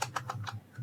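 Quick keystrokes on a computer keyboard, about five light clicks in an even rhythm, close and fairly quiet with no talking.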